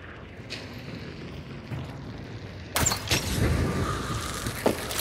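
Grenade exploding in Hunt Showdown 1896, a sudden loud burst after a few quiet seconds, followed by a rumbling, crackling tail and a final sharp hit near the end, with no talking.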